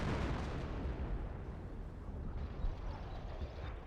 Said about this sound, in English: Artillery barrage running in, get some good damage on those forces